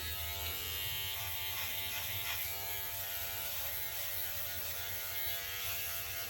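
A Philips OneBlade Pro electric shaver cuts through a two-week beard with a steady, close buzzing hum that never lets up, mixed with a faint gritty crackle of stubble.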